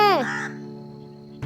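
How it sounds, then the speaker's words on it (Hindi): A crow caws once in a home garden, loud and close, and the harsh call fades quickly into quiet with a faint tap at the end. "कौवा महाराज क्यों काव काव हो रहा है?"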